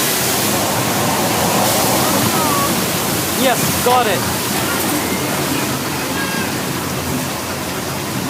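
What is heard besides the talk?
simulated flash flood water rushing on studio tram tour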